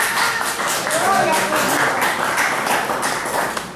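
A church congregation claps loudly and steadily in a fast, even rhythm, with a voice speaking over the applause.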